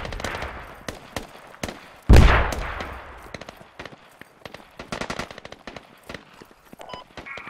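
Gunfire in the tactical shooter game Squad: sharp scattered gunshots and bursts throughout, with one loud close shot cracking out mid-way, the rest more distant and intermittent.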